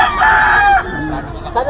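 A claret stag gamecock rooster lets out one loud, close crow lasting under a second, followed by a short trailing cluck.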